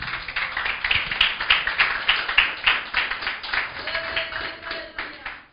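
A church congregation claps along during a sermon, a steady rhythmic patter of many hands filling the room with dense broadband noise, fairly close and continuous throughout.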